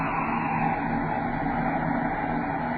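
Spaceship braking rockets fire as a radio drama effect, a steady, dense roar holding level from start to finish with no break or change in intensity.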